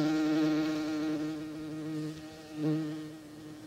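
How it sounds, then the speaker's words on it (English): A bee buzzes steadily and close by for several seconds, a sustained droning hum with slight wavering in pitch and loudness, alone without speech. "Was that a bee? From your mouth?"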